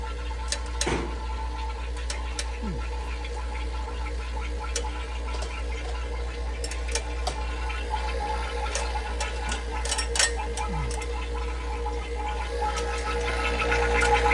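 A vacuum pump evacuates a Senville mini split AC system, running steadily with a low mechanical hum and gurgling, rattling undertone, plus scattered clicks and ticks, no talking.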